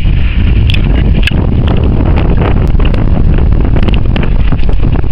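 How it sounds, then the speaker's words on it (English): Strong wind blasts across the open summit of Red Pike in Buttermere, a loud continuous rumbling roar buffeting the microphone with scattered clicks and no pauses. "it's very windy"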